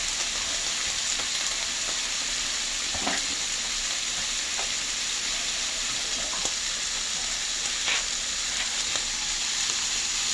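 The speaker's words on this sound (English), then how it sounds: "And then just stir fry them. Until they're tender." Mushrooms stir-frying in a pan for a beef and mushroom dish, giving a steady, close sizzle with scattered crackles and occasional scrapes from stirring, heard alone without talk.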